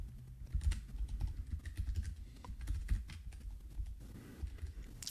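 Fast typing on a computer keyboard, a close, quiet stream of irregular key clicks and taps with brief pauses, heard alone without speech.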